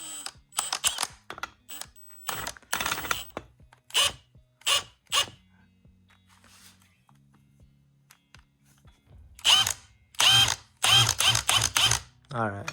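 Ratchet tightening a driveline bolt on a 2003 Yamaha GP800R jet ski, in bursts of rapid clicking pawl strokes, close and fairly loud, separated by pauses with a little low handling noise.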